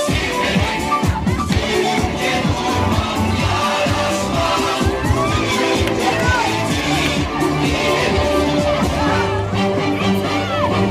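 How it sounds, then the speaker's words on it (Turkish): A crowd at a Victory Day flag march in Basınkent applauds and cheers. The clapping and voices form a continuous, loud, dense wash of hubbub that runs the whole time. "Alkışlarla katılıyoruz, alkışlarla."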